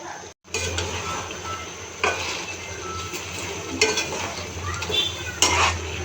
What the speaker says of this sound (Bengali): চিকেনগুলোকে ভালোভাবে কষিয়ে নেব